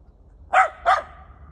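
A neighbor's loose dog barks twice in quick succession outdoors, two sharp, fairly close barks standing alone over quiet ambient background.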